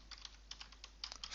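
Computer keyboard being typed on in quick, irregular bursts of light clicks, close and fairly faint, with a steady low hum underneath and no talking.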